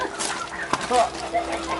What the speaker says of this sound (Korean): 암탉 수마리 수탉 하나.